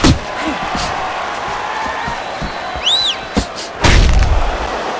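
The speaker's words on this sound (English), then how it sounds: "Manny Pacquiao's hit by a right hand." Punch landing in the boxing video game Fight Night Champions, Manny Pacquiao caught by a right hand: a sharp, loud thud near the end over steady crowd noise, with other game sounds earlier.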